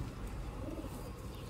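Sialkoti rooftop pigeons coo softly against a steady, fairly loud background hiss, the low cooing blending into the continuous noise.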